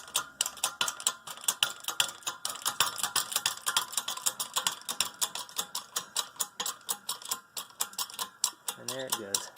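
A hydraulic press pushes a control arm bushing out of a 2006 Audi A3 arm, a rapid train of sharp metallic ratcheting clicks at a steady rhythm, close and fairly loud throughout.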